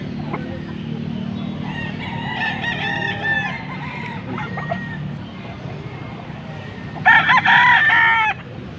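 Roosters crow and hens cluck amid a busy outdoor din at a chicken market in Bocaue, with a loud, drawn-out crow near the end.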